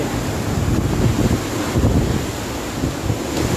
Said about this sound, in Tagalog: Ayan, ang lakas na ang hangin